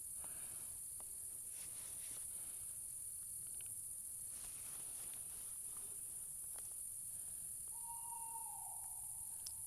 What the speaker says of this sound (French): Là on a le hibou.